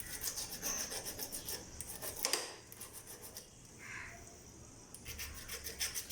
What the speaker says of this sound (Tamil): அந்த மாதிரி ஃபைலை வச்சு ஃபுல்லாக தேய்ச்சிட்டு போட்டிங்கன்னா கொஞ்சம் நல்லா கான்டாக்ட் ஆகும்